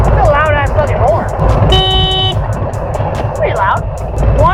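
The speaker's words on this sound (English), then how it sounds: "Oh good, you found the horn button. It's a loud ass fucking horn." A loud car horn blasts in one steady held honk of about half a second from a vehicle driving through Miami traffic, with road noise throughout and people talking before and after it.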